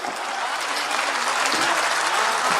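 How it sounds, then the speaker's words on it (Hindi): An audience breaking into dense, sustained applause at a Hindi poetry recital, a kavi sammelan, the clapping steady and loud throughout the short stretch without voices. "तालियां कोई ज्ञान की बातें करे तो भी बजती हैं।"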